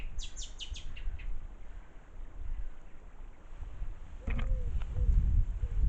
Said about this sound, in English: the birds singing, the wind in the trees